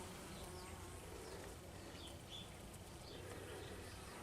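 Bees buzz around beehives outdoors in a low steady drone, faint and continuous, with distant ambient noise.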